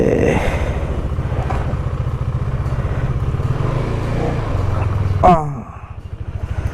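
A loaded motorcycle rides through Siliguri traffic, its engine droning steadily and close. Vehicles pass nearby, and a brief rise in the noise comes near the end.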